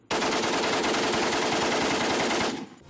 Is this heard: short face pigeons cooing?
no